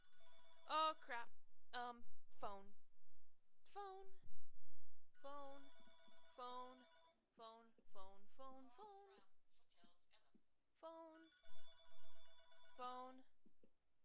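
A telephone rings in a room with a repeating electronic ringtone: bursts of bright, trilling tones separated by gaps, fairly faint, over about fourteen seconds.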